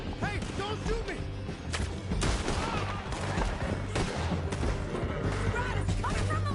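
Gunfire in the video game Red Dead Redemption 2, with rapid bursts of shots and crashes piling up in a dense, continuous battle din, while game voices shout over the fighting.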